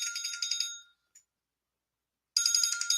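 Mobile phone ringtone playing a bright, repeating electronic trill, close and loud; it rings, stops for about a second and a half, then starts again.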